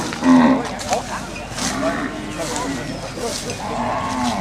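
Cattle moo loudly and close by at a cattle market in Sakon Nakhon, Thailand, with someone talking over a busy crowd and market chatter.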